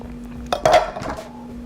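A spoon clinks and taps inside a container as pumpkin spice coquito, a Puerto Rican no-egg eggnog with rum, is stirred, a few close, light knocks and a short scrape over a quiet hum.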